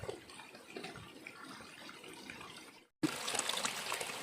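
Water trickling and spattering from a leaking knapsack sprayer missing its gasket, a steady close wet hiss that cuts out briefly near three seconds, then returns louder.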